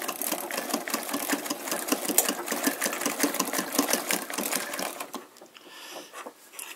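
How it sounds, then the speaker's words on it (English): A Singer 319/306K domestic sewing machine stitches through leather with rapid, continuous mechanical clatter, close and steady, then slows and fades near the end. "it's actually sewing through that leather, the underneath of it"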